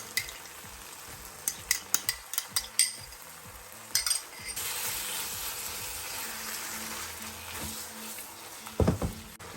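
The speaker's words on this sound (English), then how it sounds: "We'll give a quick mix" Scrambled paneer and yogurt are stirred in a pan, with a spoon scraping and clacking in short bursts, then a steady soft sizzle of frying, and a few final knocks near the end.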